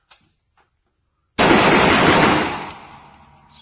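Assault rifle gunfire: after a quiet start, a sudden loud sustained burst of rapid shots that rings out and decays into a fading echo.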